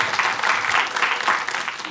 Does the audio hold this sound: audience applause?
yes